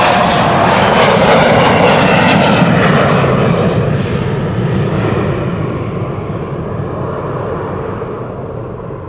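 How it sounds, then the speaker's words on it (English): A KLM Embraer 175 jet at Amsterdam Schiphol roars loudly nearby, a broad engine rush that slowly fades as the aircraft moves away. "KLM Embraer"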